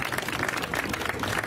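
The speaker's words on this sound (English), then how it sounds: "Give them a warm round of applause." Crowd applause at an outdoor holiday tree lighting ceremony, a brief burst of dense, loud clapping from many hands.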